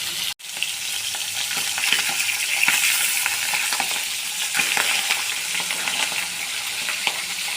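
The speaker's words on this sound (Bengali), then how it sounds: "পাবদা মাছ ভীষণ ফাটে, থালা ঢাকা দিয়ে দিয়ে ভাজতে হয়।" Pabda fish fry in hot oil under a covering plate, making a continuous close sizzle scattered with sharp spluttering pops and crackles, with a single sharp knock near the start.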